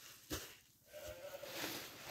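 A newborn lamb bleats on a farm, a single faint, drawn-out wavering cry heard at a distance over soft background noise and a few low thumps.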